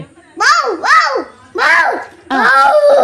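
A small child imitates a dog barking with four short, voiced yelps in quick succession, close to the listener.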